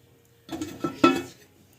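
A metal lid clanks onto a cooking pot after mushrooms go in, two close clinks of cookware a half-second apart over a quiet kitchen.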